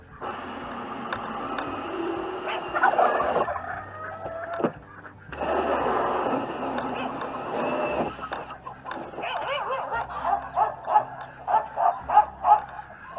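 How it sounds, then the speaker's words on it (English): Dogs, including a neighbour's dog, bark and yip repeatedly in a backyard setting, moderately near, the barking coming in bursts and a rapid run of yaps toward the end, with some background noise between. "Oh, the other dog showed up. Neighbor's dog."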